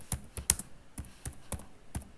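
Code being typed on a computer keyboard for a C programming lesson: a sparse run of crisp individual keystrokes, a couple of louder taps early on, then evenly spaced clicks, close up with no talking.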